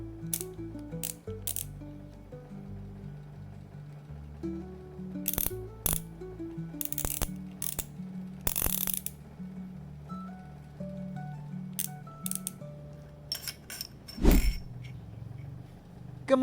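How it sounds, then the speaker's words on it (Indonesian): Rifle scope turret on a Thompson Center Predator scope turned counterclockwise to its stop, giving a series of crisp ratcheting clicks in uneven bursts, close and quiet, with a few sharper mechanical snaps and no talking. "Posisi setelan turret harus dikendorkan ya. Caranya kita putar berlawanan arah dengan jarum jam sampai mentok."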